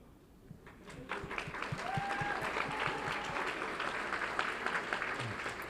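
A school board meeting audience applauds students recognized for a UIL One-Act Play, a moderately distant, steady round of clapping that swells after the first second and continues evenly throughout.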